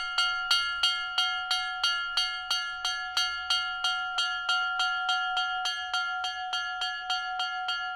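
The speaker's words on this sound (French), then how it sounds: "ça fait plus de 30 ans maintenant que je secoue la cloche" A hand bell rings at the Paris-Roubaix cycling race finish line, shaken in a steady rhythm of about two bright clangs per second, loud and close, with the ringing holding between strikes.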